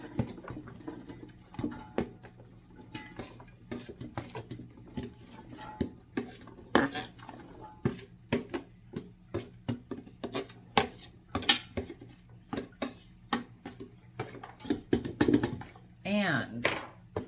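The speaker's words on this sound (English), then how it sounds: "what I'm going to throw in my pot first is just my onions and potatoes." Chopped onions and potatoes drop into a big cooking pot, a run of sharp clattering knocks and thumps at irregular intervals, close by, with someone talking quietly between them.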